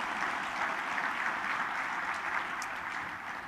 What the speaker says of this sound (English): Let's give them a round of applause real quick